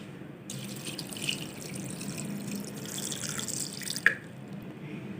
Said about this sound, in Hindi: दो गिलास पानी डालेंगे।